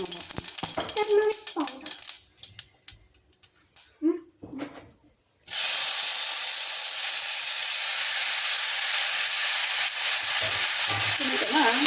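Mustard seeds and turmeric frying as a tempering for tomato rasam: clatter and brief talk at first, then a sudden loud, continuous sizzle and hiss dominating close up.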